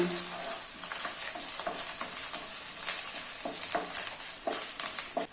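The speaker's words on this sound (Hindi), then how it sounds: "अभी इसमें 2 हरी मिर्च ऐड कर लेना है और मिक्स कर लेना है।" Green chillies being stirred into chicken leg piece masala with ginger garlic paste, a continuous sizzle with spoon scrapes and stirring clatter, close and steady with no talk.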